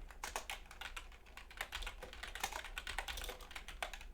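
Steady, fast typing on a computer keyboard during a late-night programming session, with dense overlapping key clicks running continuously and fairly close, with no voices.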